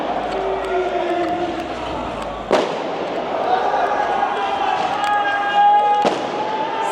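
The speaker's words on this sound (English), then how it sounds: "You hear fireworks, maybe we can go to film firework." Fireworks burst over Paris at night, with a sharp crack near the middle and another toward the end over steady city background noise and nearby voices talking.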